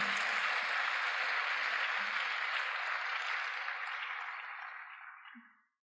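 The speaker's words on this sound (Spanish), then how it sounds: "Les escuche ese aplauso." An audience at the VidaFest Puebla 2019 pro-life event applauds a speaker's introduction, a steady burst of clapping that holds for several seconds, then fades out and ends in silence.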